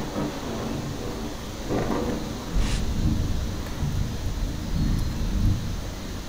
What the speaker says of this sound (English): Ah, yes, the realistic thunder.